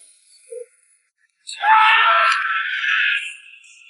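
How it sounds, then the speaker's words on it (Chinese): An animated girl's piercing, drawn-out scream in a post-apocalyptic cartoon, loud and close, rising sharply and holding for about two seconds before cutting off, preceded by a brief faint blip. "突然发出刺耳的尖叫声"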